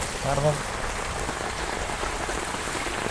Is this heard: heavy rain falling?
yes